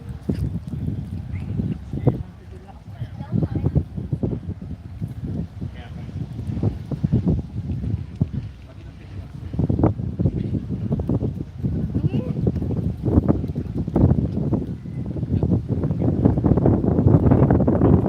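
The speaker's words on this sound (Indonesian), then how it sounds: "Makin kencang angin, bro." Strong, gusty wind roars and buffets the microphone outdoors at a slingshot competition, the Fornas VI South Sumatra event, with a steady low rumble that swells louder toward the end while people talk throughout.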